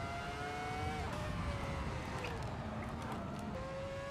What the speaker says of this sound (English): who doesn't love the sound of a good V10?